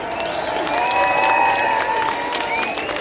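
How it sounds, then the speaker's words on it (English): Outdoor pro-life rally crowd at Customs House in Dublin applauding and cheering for a group of doctors, a steady wash of clapping with high shouts and whistles rising above it. "I want to give a massive round of applause for the Doctors for Life who are here with us here today as well."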